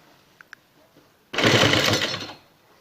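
A sewing machine runs one short close burst of about a second while stitching a round neckline with piping, preceded by two faint clicks.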